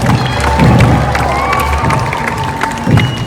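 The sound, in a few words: crowd cheering and making noise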